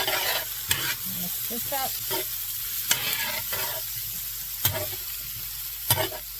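Garlic sizzling in a pan for shrimp scampi, a soft steady crackle broken by several sharp scrapes of a utensil stirring, with a brief spoken word near the start.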